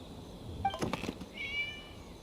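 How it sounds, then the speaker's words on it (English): A cat meows once in the Genshin Impact video game, a short, clear cry over quiet background noise, followed by a faint high tone. "It was just a cat."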